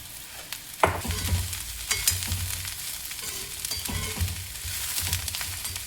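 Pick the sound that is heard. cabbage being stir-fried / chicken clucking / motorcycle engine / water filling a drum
cabbage being stir-fried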